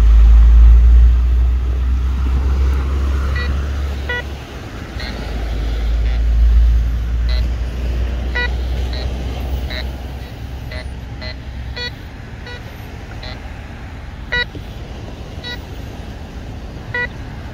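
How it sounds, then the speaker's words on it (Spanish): A tractor passing on a beach at dawn, its deep low engine rumble swelling and fading twice over a steady background, with scattered light clicks on top. "Este es el paso del tractor."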